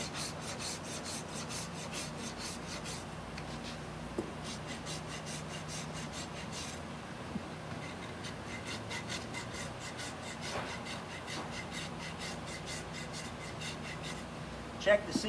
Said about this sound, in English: Now we're going to smooth it all out with the rasp.